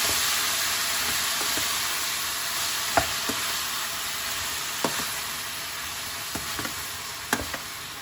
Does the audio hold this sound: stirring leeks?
yes